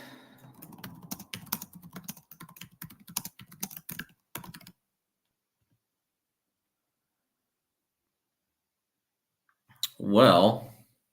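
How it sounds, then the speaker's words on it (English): Quick, uneven keystrokes clatter on a computer keyboard for several seconds, then stop into near silence before a brief voice is heard at the end. "Let me type it in."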